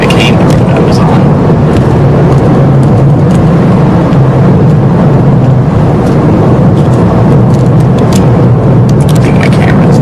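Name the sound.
car driving over a loose gravel road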